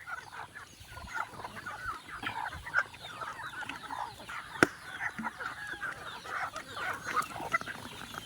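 Chickens cluck in a coop, a steady chatter of soft clucks and calls layered at a moderate distance, with one sharper squawk midway and no talking.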